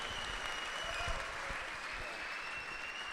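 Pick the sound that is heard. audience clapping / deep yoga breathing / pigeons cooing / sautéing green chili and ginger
audience clapping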